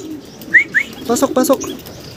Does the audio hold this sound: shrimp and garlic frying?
no